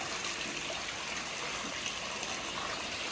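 Clean water flowing along a stream, a steady broadband rush and trickle that stays constant and fairly close throughout, with no talking.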